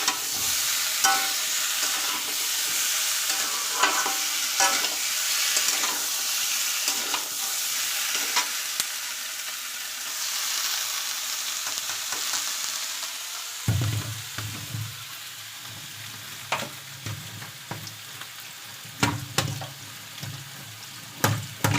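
Potatoes fry in a pan with a steady sizzle and frequent stirring clatter, the frying growing louder and more crackly partway through, with no talking.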